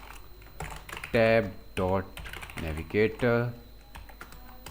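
Code is typed on a computer keyboard, a quick run of light key clicks heard beneath someone talking.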